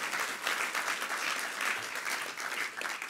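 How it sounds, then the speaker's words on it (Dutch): An audience at a history café talk applauds, a dense, even wash of clapping from a modest crowd, steady throughout at moderate distance. "Inderdaad, applaus."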